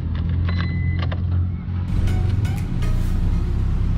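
A 2013 Proton Exora 1.6 Bold Turbo with automatic gearbox cranks and starts close by, a brief starter whir giving way to a steady, loud idle hum that runs on alone.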